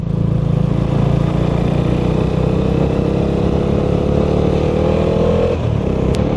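A motorcycle climbs a winding Sikkim mountain road, its engine droning loud and close with a steady mid-pitched hum that shifts in pitch as the rider changes gear.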